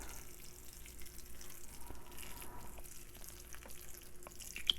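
Water pours onto a small potted plant in a steady, faint trickle that continues for a few seconds with soft splashing.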